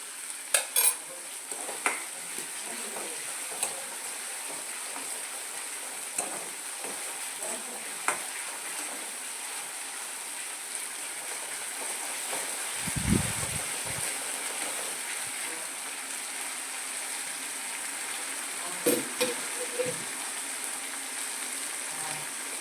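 Onions and long-cut red chillies frying in a pan for a green corn curry, a steady sizzle with scattered spatula clinks and scrapes, plus a low thump partway through.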